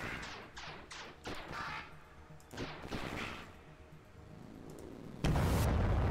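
Units firing on an enemy base in the strategy game Hexters, a scatter of sharp distant shots and small explosive pops, irregular and moderate, ending in a louder sustained burst.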